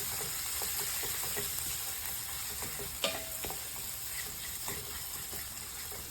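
Onions, green chillies and curry leaves sizzle steadily in a pan, with occasional light clicks of a spoon stirring through the hot oil, close and continuous, with no talking.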